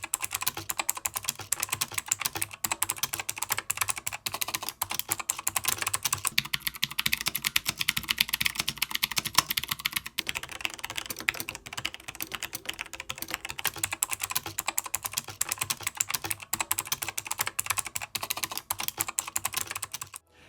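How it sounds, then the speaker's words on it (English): Fast continuous typing on a budget mechanical keyboard, dense rapid key clicks close to the mic, running steadily throughout with a brief lighter stretch midway and no talking. "users a similar experience when typing on a mechanical keyboard"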